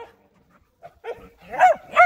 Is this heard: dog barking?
yes